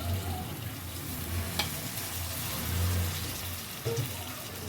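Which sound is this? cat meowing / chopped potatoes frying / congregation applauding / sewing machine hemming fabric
chopped potatoes frying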